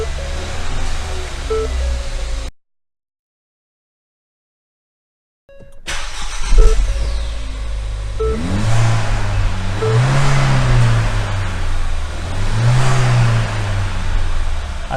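A 2018 Ford Fiesta ST fitted with a K&N panel air filter starts up after a brief silence, then its engine is revved in several rising and falling bursts with audible induction noise, loud and close.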